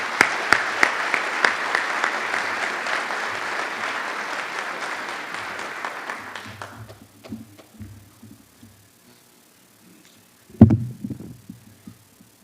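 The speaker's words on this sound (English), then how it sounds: "So please give a round of applause for Larry Beasley." An audience in a hall breaks into loud, dense applause that gradually thins to scattered claps and fades out, followed by a brief burst of handling noise near the end.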